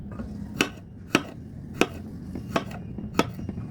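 Garlic and ginger being sliced with a knife on a board, five crisp chops at an even, unhurried rhythm, close and clear with no talking.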